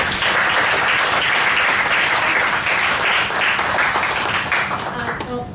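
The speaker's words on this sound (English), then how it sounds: "Let's give her a round of applause." An audience at an eCommerce meetup applauds to welcome a guest speaker from Wix, a full, steady round of clapping that carries for several seconds and eases off slightly at the end.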